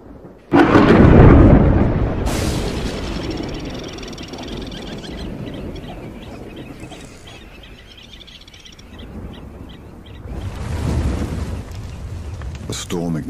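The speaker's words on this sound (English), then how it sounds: "Storm ignites the bush" A thunderstorm over the bush where lions roam: a heavy, close thunderclap breaks and rumbles away, birds call faintly during the lull, and a second deep rumble rolls in near the end.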